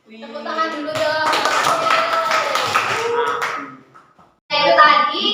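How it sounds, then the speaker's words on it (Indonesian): A class of schoolchildren clapping their hands in a burst of applause that swells and fades over a few seconds, with children's voices around it. "Tepuk tangan dulu dong."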